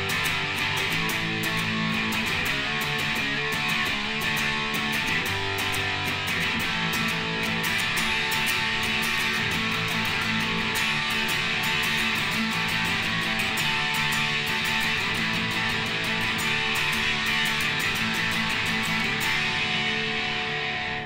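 Electric guitar plays a song's chorus, a dense, continuous, distorted punk strumming with accented chords, loud and steady throughout with no talking.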